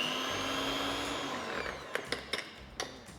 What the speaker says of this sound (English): I just like to use my hand beaters and just give that a good mix until it's nicely incorporated.